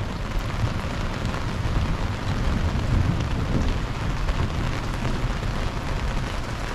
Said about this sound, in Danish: og det tordner faktisk også.